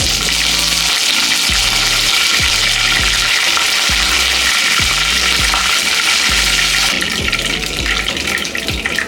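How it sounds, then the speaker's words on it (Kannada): Mustard seeds, chana and urad dal and curry leaves sizzling in hot oil, a loud dense crackle and hiss that runs continuously, with sputtering pops throughout. "ಈಗ ಇದಕ್ಕೆ ಸಾಸಿವೆ ಹಾಕೋತಾ ಇದ್ದೀನಿ, ಅರ್ಧ ಸ್ಪೂನು. ಕಡಲೆಬೇಳೆ ಉದ್ದಿನಬೇಳೆ 1 ಸ್ಪೂನು. 1 ಕಡ್ಡಿ ಕರಿಬೇವು ಹಾಕ್ತಾ ಇದ್ದೀನಿ"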